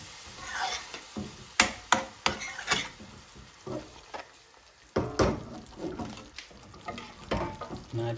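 A thick base gravy bubbles and sizzles in a pan for garlic chicken tikka chilli bhuna, with irregular spatula scrapes and clatters against the pan at close range, mostly without talk.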